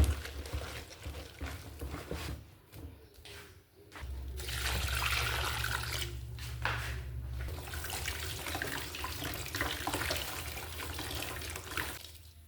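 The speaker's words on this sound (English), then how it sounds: "So I'll put in a little bit of water now." Water runs and splashes steadily into a bowl of bitterleaves being washed, a broad hissing pour that continues for most of the clip after a brief quieter start.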